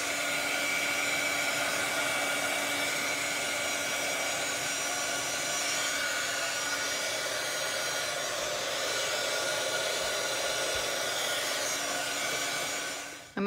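A hair dryer blows steadily on alcohol marker ink laid on vellum, a loud, even whoosh running unbroken for about thirteen seconds before it cuts off abruptly at the end.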